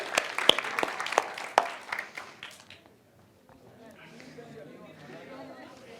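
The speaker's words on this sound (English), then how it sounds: "So big applause for every team." Audience applause for presenting teams at a Scrum conference in Belgrade, a burst of clapping and a few whoops that thins and fades out within about three seconds, leaving quiet room murmur.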